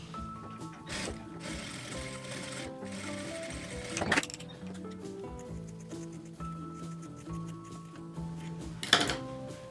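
A sewing machine runs steadily, stitching a rounded corner of a ruffled flap zip pouch along a drawn line, with a continuous mechanical whir and two brief louder clacks.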